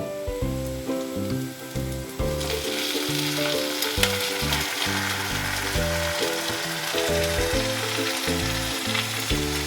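Marinated chicken hitting onions in a hot pan, setting off a loud, steady sizzle with scraping stirs and rhythmic clatter throughout, no talking.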